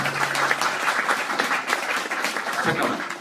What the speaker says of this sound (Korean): 그럼 박수 좀 부탁드리겠습니다